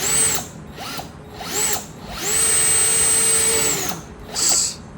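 A power drill bores through a pine guitar body at the bridge pinhole, whining in several short bursts and then one long sustained run before a final brief spurt, loud and close.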